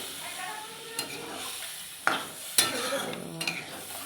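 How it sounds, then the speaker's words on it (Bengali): Meat frying in a pan sizzles softly while a utensil stirs it, leaving a few distinct scraping knocks against the pan spread across several seconds over the continuous hiss. "এবারে জল একটু অ্যাড করে দেবো, একটু নেড়ে নেব।"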